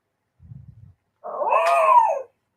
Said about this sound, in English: She's still not quite barking like a real dog yet.